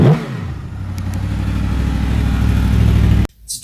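A Honda VFR 800, a sixth-generation fuel-injected 800cc dual-overhead-cam V4 with ABS, idles close and loud, climbing into a steady rumbling rev before cutting off abruptly near the end.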